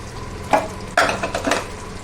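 Boiled chickpeas stirred into a simmering gravy in a pan, a few close spoon clinks and scrapes over a soft bubbling sizzle, short and alone without speech.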